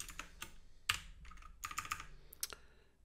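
Quick, light keystrokes on a computer keyboard come in uneven bursts of taps and clicks, close and fairly quiet, with no talking.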